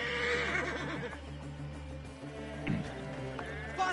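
A horse in a video game neighs loudly in a shrill, wavering whinny at the start. Quieter snorts and a few fainter calls follow over a steady background hum, with no clear talking.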